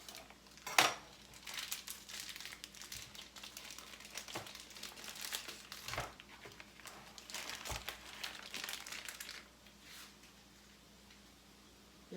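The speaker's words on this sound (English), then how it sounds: "Take it out of the packaging." Plastic packaging around pork, turkey and beef Polish kielbasa crinkles and rustles in short, faint bursts, with a sharp crackle early on and soft handling sounds scattered through the rest.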